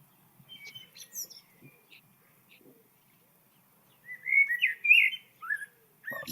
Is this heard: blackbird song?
yes